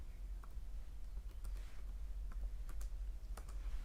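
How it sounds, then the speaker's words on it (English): Typing on a computer keyboard, a steady run of light clicks and taps over a low background hum, close to the microphone and alone with no one talking. "I'm typing in English again."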